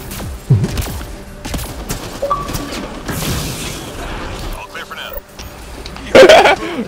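Apex Legends gunfire, scattered shots and bursts popping near and far through a busy firefight, with one louder burst near the end, while players talk over it.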